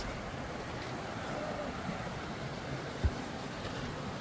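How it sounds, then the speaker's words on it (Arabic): Steady broadband rush of flowing water along a mountain path near the waterfalls of Zaouia Ifrane in the Middle Atlas, continuous and fairly loud throughout, with one short low thump near the end. "صوت المياه"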